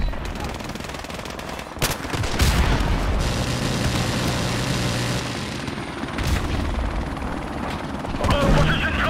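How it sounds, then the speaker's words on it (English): A helicopter's thumping rotor drones steadily amid bursts of machine-gun fire and booms in a video game, with voices speaking over the battle noise. "Friendly helicopter on the way."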